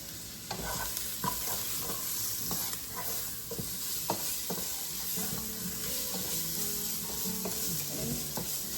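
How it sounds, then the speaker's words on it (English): Food flash-fries, sizzling and hissing in a hot pan, with a utensil scraping and stirring at irregular intervals, close and steady. "I'm gonna let that continue flash frying"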